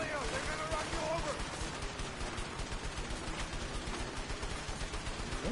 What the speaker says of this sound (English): I'm getting shot like crazy!